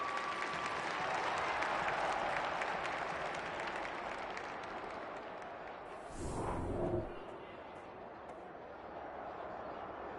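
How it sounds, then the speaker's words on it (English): Crowd at a SANFL Inclusive League football match applauding and cheering, a dense continuous wash of clapping that fades slightly, with a short louder burst of cheering partway through. "The crowd already making plenty of noise as the captains come together."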